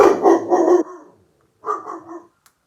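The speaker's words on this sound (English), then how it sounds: "Noah, can you come grab the dog and put her up" A pet dog barking nearby indoors, a burst of several loud barks followed by a pause and a second, shorter run of barks.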